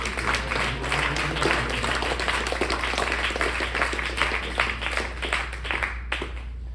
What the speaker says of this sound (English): give me a round of applause for the second